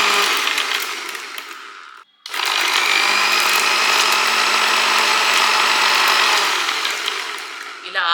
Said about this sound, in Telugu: మనము మిక్సీ పట్టుకోవాలండి